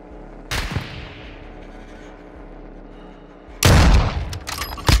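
Gunfire in Warzone 2 Mini Royal trios: a sharp shot near the start trailing into a low rumble, then a loud dense burst of rapid shots and booms near the end, close and forceful, no talking.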